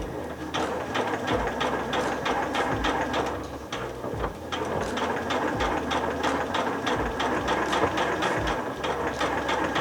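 A sewing machine stitching slowly around the curves of a reverse appliqué heart cushion cover, giving a loud, continuous mechanical whir with rapid regular needle clatter and a brief dip where it slows.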